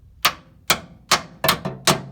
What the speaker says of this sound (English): Then I'm just going to take a hammer and set it in place.